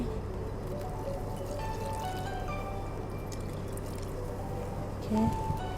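A little water is poured into a cooking pot that already holds pandan leaves and salt, giving a steady, soft, continuous liquid trickle at close range over a low background hum.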